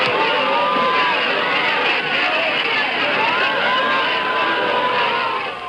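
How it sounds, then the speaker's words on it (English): A large crowd roars continuously, a dense, steady wash of cheering and babble that stays loud throughout, produced live in a radio studio by a sound effects man. "The sounds you hear of crowds roaring are being added live by a radio sound effects man"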